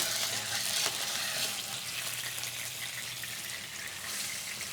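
White wine and a big dab of butter sizzling in a warm pan with a little olive oil, a steady, close, bright frying hiss that carries on without a break.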